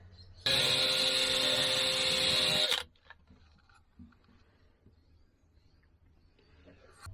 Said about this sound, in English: So I'm going to drill a test hole in the floor